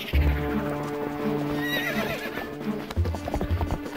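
A horse in the Wii game The Legend of Zelda: Twilight Princess gallops with loud, rhythmic hoofbeats and lets out a long, close whinny midway before the hooves pound on.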